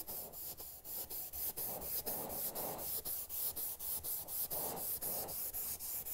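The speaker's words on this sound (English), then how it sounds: "I rub it in with an abrasive pad" Steady scratchy rubbing of an abrasive pad working oil finish into a wooden kitchen cabinet surface, with rhythmic back-and-forth strokes, close and fairly quiet, no talking.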